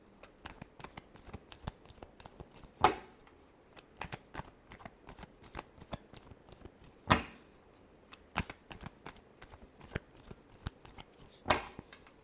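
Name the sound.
shuffling tarot cards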